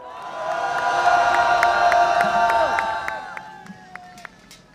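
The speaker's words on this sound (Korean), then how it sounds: "큰 박수와 함성으로 모시겠습니다" Crowd cheering and clapping at an outdoor political rally in Seoul, swelling over sustained tonal music or horn tones, then fading with scattered claps and whoops.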